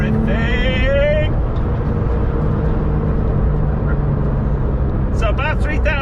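A Porsche 911 996 GT2 Clubsport in third gear at low revs, accelerating hard at full throttle: a loud, steady engine roar building in intensity close to the microphone, with a person talking over it.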